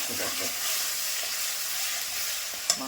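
Rice with spices frying in a pan, a steady soft hiss and crackle throughout, with a small clink of stirring near the end; no talking.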